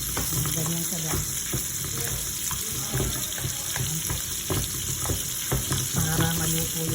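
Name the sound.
steak frying in butter and garlic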